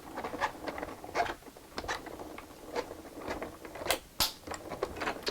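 Manual die-cutting machine cranking a paper card base through its plates, a dense series of close ratcheting clicks and rustles, with a sharper knock near the end.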